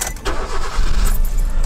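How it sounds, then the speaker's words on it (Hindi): A used car's engine cranks and catches, a short loud starter whir followed by the engine firing up to a rough rumble, close by and with no talk. "हमें देखना क्या है, गाड़ी को स्टार्ट करना है"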